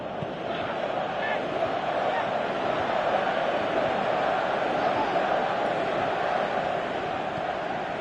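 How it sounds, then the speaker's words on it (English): A packed stadium crowd at a Fenerbahce versus Galatasaray football match keeps up a steady, dense roar and chanting throughout, broad and unbroken, with no clear individual voices. "you can feel and hear how the crowd are reacting to all of this"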